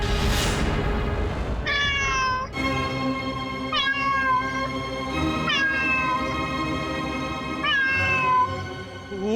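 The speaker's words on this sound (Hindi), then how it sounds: "वो उसी बिल्ली का आवाज है ये। सुना तुमने? वो उस तरफ से आवाज आ रही है।" A cat meows repeatedly, with about five drawn-out, wavering cries spaced a couple of seconds apart, close and clear over a faint background hum.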